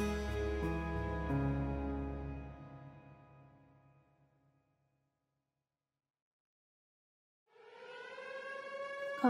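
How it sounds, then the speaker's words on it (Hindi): A loud siren signaling the breaking of the Ramadan fast wails steadily and then fades away into silence. After a pause, a rising siren tone starts up again. "सायरन बज गया।"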